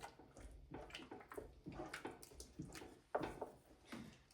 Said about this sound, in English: And stir, we stir